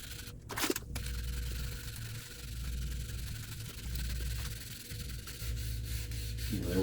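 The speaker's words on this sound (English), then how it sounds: "I'm just allowing the weight of the tool and the sandpaper to do its job" A sander with sandpaper glides over an end table top, letting the tool's weight do the work, producing a steady close rubbing drone with a brief scraping burst near the start.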